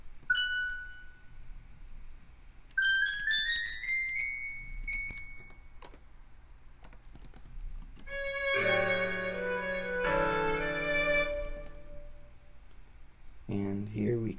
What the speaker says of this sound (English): Maybe this would be a good place for some, like a bell